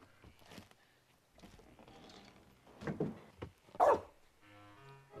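A dog barks several times in short, sharp bursts at moderate distance, with quieter yips and rustling between the barks in an otherwise calm setting.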